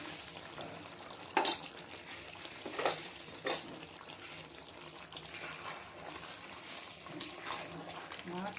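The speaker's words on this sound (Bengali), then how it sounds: "দিয়ে এবার একটু গরম জল দিয়ে দেবো" Hot water poured into a pan of chicken cooking on a home stove, with a few sharp clinks of utensils against the pan over a soft, steady wash of liquid and faint kitchen noise.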